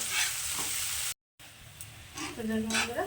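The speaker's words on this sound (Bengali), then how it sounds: "তো পেঁয়াজটাকে আমি একটু লাল লাল করে ভেজে নেবো" Onions fry in a pan until reddish, giving a close, steady sizzle. It is cut by a brief dropout and then returns, with a voice speaking over it at the end.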